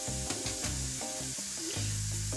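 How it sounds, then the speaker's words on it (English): Vegetables sautéing with onion and green chili in a pan for vegetable cutlets, a continuous moderate sizzle with light stirring over a steady tonal hum. "The carrots can be pre-cooked or you can saute it till it gets cooked."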